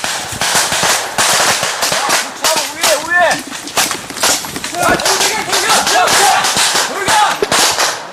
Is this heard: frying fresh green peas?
no